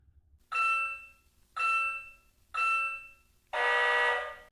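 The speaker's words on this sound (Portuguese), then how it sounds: "Agora ele já emitiu, depois dos bips, o som de fim." An LED TECH digital stopwatch gives three evenly spaced loud electronic beeps, each about half a second long, then a longer, denser buzzing tone marking the end of the cycle, with no talk.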